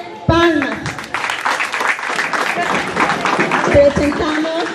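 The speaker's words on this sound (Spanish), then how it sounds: "Con fuertes palmas." An audience at a school golden-jubilee event claps in a loud, dense burst of applause, with a voice speaking over it at the start and again near the end.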